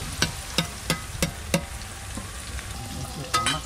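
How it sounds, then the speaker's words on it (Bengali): Onion stalks frying in a pan under a soft, steady sizzle, with a spatula tapping the pan in a regular rhythm of about five knocks and a couple more near the end. "পেঁয়াজ কলিগুলো ভাজা হয়ে গেছে।"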